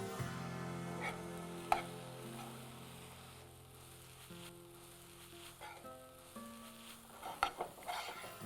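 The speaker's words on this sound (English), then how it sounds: "Now let's give this a really nice mix up." A spoon stirs a pan of Indian meatless food after garam masala of cloves, green cardamom, cinnamon and nutmeg goes in, with soft scraping and gentle sizzling, faint and close, and a few clinks near the end.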